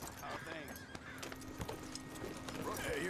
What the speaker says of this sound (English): Why is my horse so much smaller than Dutch's?